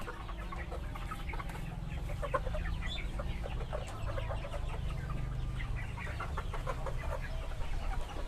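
A flock of KUB and kampung chickens on an Indonesian poultry farm clucks and chatters continuously, with many overlapping birds over a low background hum. The sound is fairly soft and close by, with no talk.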